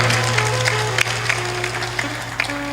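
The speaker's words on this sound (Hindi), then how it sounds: "अब की ताली लगाया है तुमने" An audience claps along at a spiritual discourse by Sant Shri Asang, scattered rhythmic claps over a steady low tonal hum, with one sharper clap standing out.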